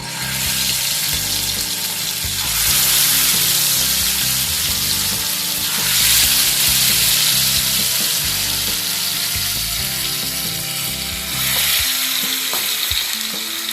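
Rohu fish pieces coated in ground ginger-cumin paste fry in hot white oil in a kadai for Punjabi fish curry, giving a loud, steady, close sizzle that swells slightly at times, with no voices.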